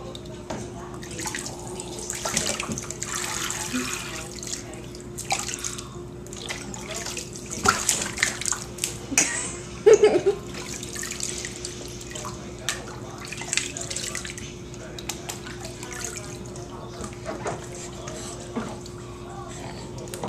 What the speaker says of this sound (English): Splish splash, I'm taking a bath.